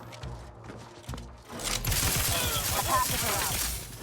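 Rapid enemy gunfire erupts in The Outer Worlds 2, a dense continuous burst of shots that kicks in after a quieter start and stays loud for the rest of the moment.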